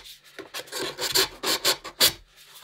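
Wooden dory floorboards being sanded by hand: short rasping strokes of sandpaper on wood, close and fairly quiet, in an uneven rhythm of about a dozen quick rubs.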